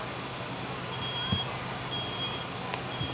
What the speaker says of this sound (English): 7 seconds for that smoke alarm to activate